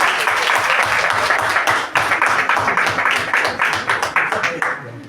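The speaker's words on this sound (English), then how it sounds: "Give her a big round of applause." Audience applause at a talk on positive attitude and leadership: a crowd claps steadily and loudly for about five seconds, with clear individual claps showing through toward the end as it thins.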